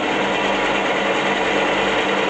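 First cut into a wooden pen blank on a woodturning setup, a steady, loud, continuous whirring buzz of a machine running evenly at close range without pause.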